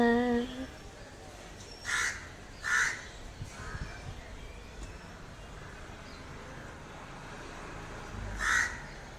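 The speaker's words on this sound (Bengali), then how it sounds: "আর কাকটা খাবার জোগাড় করছে" A crow caws outdoors in a few separate bursts, around two close together, then another later, moderately near over a steady hum of distant traffic.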